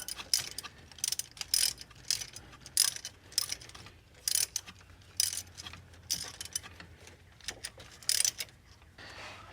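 A socket wrench ratchet snugs bolts during a tune-up on a 1988 VW Vanagon, with repeated short bursts of rapid clicking separated by brief pauses, close and quiet, with no talking.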